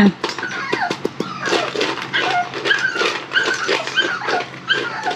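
Two dogs whimper and whine close by in a run of high, wavering cries and short yips, loud and persistent.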